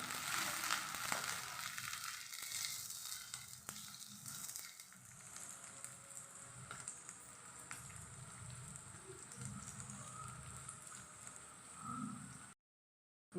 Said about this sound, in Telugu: ఆయిల్ హీట్ అయింది ఆనియన్ వేస్తున్నాను కొంచెం బ్రౌన్ కలర్ వచ్చి వరకు